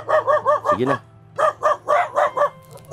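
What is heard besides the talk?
dogs barking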